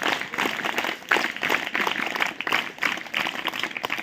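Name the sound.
audience clapping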